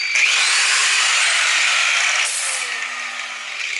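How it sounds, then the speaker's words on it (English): An angle grinder powered by a DIY 3000 W battery inverter spins with a steady, loud, high whine, close by, dipping slightly partway through and then carrying on without any voices. "Now I'm going to go with the compressor. And then"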